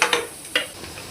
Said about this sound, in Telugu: ఒక్క నిమిషం అండి ఆయిల్లో వేగితే చాలండి